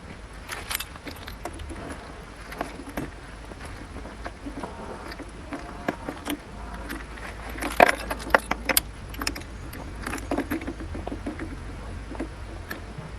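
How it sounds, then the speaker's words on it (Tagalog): Keys jangle and clink in irregular bursts while a motorcycle key is hunted for, with close metallic rattles scattered over a quiet background and no steady rhythm. "Baka hindi ito ang susi niya."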